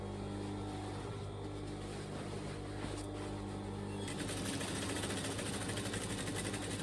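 A sewing machine stitches rockabilly trousers around the back piece in a continuous, steady mechanical whir that turns faster and denser partway through, close and without speech.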